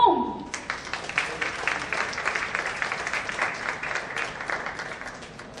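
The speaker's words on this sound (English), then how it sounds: "Keep clapping for them, friends." An audience at a CD launch event applauds children from Happy Home, a steady wash of many hands clapping that opens after a brief tone and gradually softens, with no talking over it.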